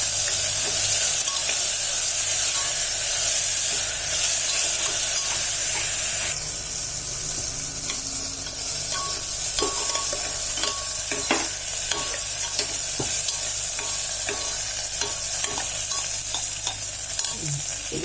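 Medium-sized chopped tomato sizzles in hot oil with ginger and garlic in a pan for drumstick biryani, a bright continuous hiss broken by scraping stirs of a spoon, close and steady with no talking.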